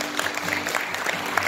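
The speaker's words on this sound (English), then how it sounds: "If you guys enjoyed tonight's class, I need to hear a round of applause" A brief burst of dense clapping rises from the audience at the end of an evening hip hop class, even and moderately loud throughout.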